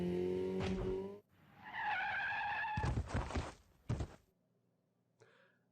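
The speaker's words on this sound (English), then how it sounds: "Suzuha on a motorcycle." A motorcycle skids in Steins;Gate Elite, with a sharp tire squeal, a couple of hard thuds, and a final short screech, all loud and close before fading.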